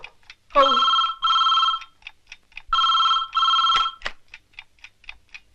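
An old telephone bell rings in two pairs of loud bursts, with ticking clicks between and after the rings.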